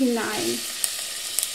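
Diced onions drop into warm fat in a pot for Hungarian goulash, a short sizzle starting under a brief spoken word, then a few small clicks.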